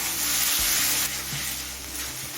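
Ginger and garlic paste frying in a pan for chicken rajma, giving a steady close sizzle that runs without a break, with faint stirring. No voices are heard.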